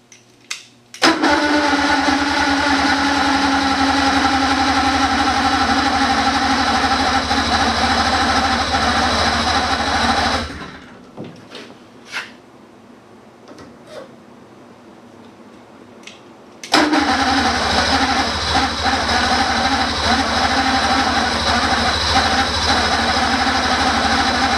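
A 1980 Ski-Doo Everest snowmobile engine runs loud and close with a steady idle, cuts out for several seconds into near quiet with small clicks, then fires back up and settles into a steady loud idle again.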